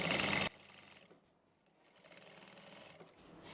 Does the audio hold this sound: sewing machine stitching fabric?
yes